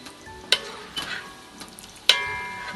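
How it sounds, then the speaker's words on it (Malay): Almonds frying in hot oil in a pan for chicken kuzi, a soft continuous sizzle broken by two sharp metallic scrapes of a stirring utensil, close and fairly quiet with no talking. "seterusnya kita goreng badam"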